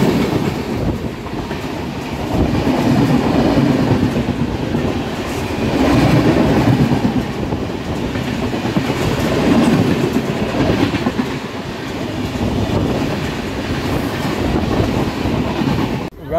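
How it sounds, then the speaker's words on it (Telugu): The Swarna Jayanti Express, an Indian passenger train near Tuni station, rumbles and clatters loudly and steadily on its rails with a rhythmic clickety-clack that swells and eases throughout, with no voices. "ఇదిగోండి మన స్వర్ణ జయంతి ఎక్స్ప్రెస్"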